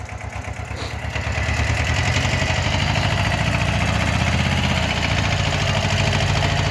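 A loaded tractor with a trailer on winter tyres, its engine revving up from idle within the first two seconds and then holding a loud, steady throbbing drone, with no voices.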